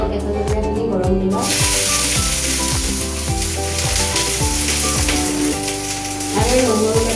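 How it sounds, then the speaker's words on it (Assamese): Raw green chillies hit hot oil in a wok-style kadai with a sudden loud sizzle that swells and stays steady and close, with scraping stir strokes throughout and no talking. "তেল গৰম হৈ গ'ল জলকীয়াখিনি ঢালি দিব কেঁচা জলকীয়াখিনি গৰম দিব"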